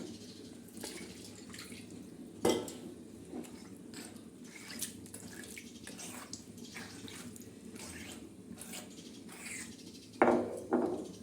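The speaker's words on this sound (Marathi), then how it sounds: "आता आपण पाटा धुवून पाणी घेणार आहोत" Water is poured and splashed over a stone grinding slab while it is washed, with faint intermittent trickling and dribbling, a couple of louder splashes, and quiet scraping in a hushed indoor setting.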